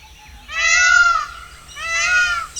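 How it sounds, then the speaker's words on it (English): Two loud, wailing peacock calls, each drawn out and rising, heard close and alone with little background. "Listen, peacock is calling."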